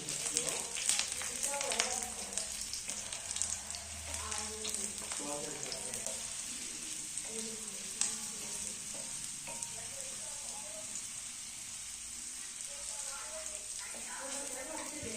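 Garlic cloves frying in mustard oil on a tawa, making a continuous crackling sizzle at low level with occasional stirring sounds, and a voice talks softly over it.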